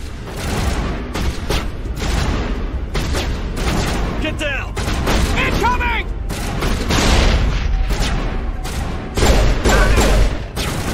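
Gunfire and explosions in Mass Effect Legendary Edition: rapid bursts of shots and heavy booms crowd a busy combat scene, with mechanical whines and impacts throughout.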